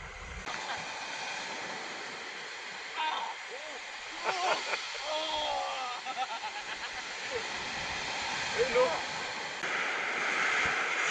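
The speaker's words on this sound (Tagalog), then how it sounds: "Grabe naman ang alon kasi." Strong sea waves roll at Sulok Beach in General Nakar, Quezon, during a fishing trip. They make a constant, distant rushing surf wash with faint voices partly heard over it.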